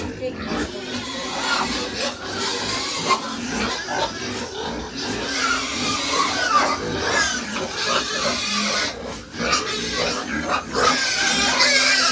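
Pigs squeal and grunt loudly and continuously at close range, a noisy, chaotic chorus with voices talking in the background.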